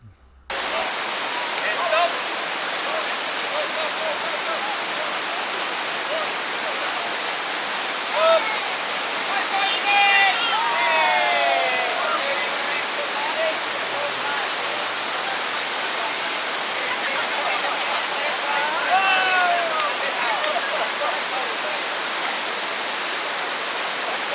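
River water rushing downriver in Ecuador at the end of a rafting ride, a steady broad roar that fills the whole span, with faint bird chirps and distant voices barely audible over it.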